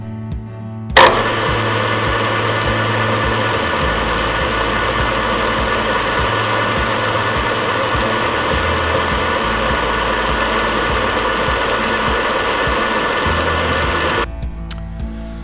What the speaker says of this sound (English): it's a 14 by 40 gearhead engine lathe, normally used for turning metal like this.